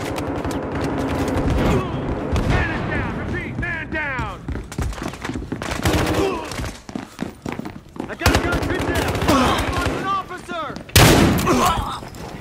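Gunfire in a video game crackles in rapid bursts of automatic shots mixed with heavier blasts, loud and dense throughout, with voices shouting over the combat.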